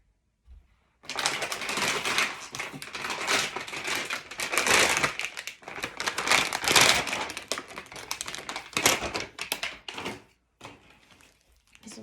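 Plastic dialysis solution bag handled and hung during a manual exchange, giving continuous close crinkling, rustling and thumping for about ten seconds, loud and busy with no talk.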